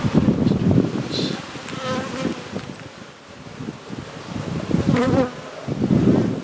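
Honey bees buzzing around an open hive during a summer inspection of frames of drawn comb: a steady, close, dense hum that swells and fades, with a brief spoken voice.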